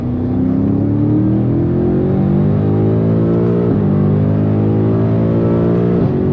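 BMW F90 M5 Competition accelerating hard on a late-night drive, a loud, close engine note climbing through the revs, briefly dipping at two gear shifts before surging again, heard from inside the car.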